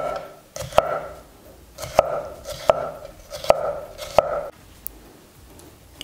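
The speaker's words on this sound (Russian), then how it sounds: "И нарезаем вот такую вот соломку." Close knife chops on a cutting board, about five sharp evenly spaced cuts through crisp bell pepper into strips, then a lighter tap.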